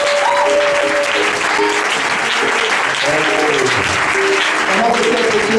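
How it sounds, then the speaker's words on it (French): A congregation at a church seminar in Côte d'Ivoire claps and cheers in loud, sustained applause that fills the room, with voices rising through it. "Acclamons Dieu très fort."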